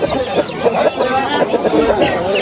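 Roosters at a poultry bazaar in Hazarasp crow and cluck close by, a busy layer of fowl calls running under overlapping conversation among buyers and sellers.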